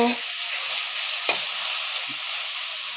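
Red amaranth greens frying in a pan over lowered heat, a continuous close sizzle with a couple of soft stirring scrapes and no talking.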